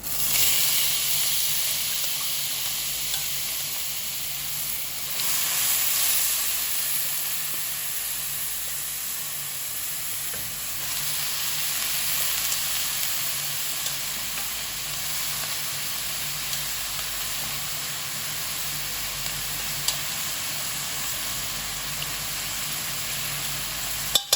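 Pork frying in a pan for adobo gives a steady, loud sizzle and hiss that runs unbroken throughout, swelling slightly in places, with no voices over it.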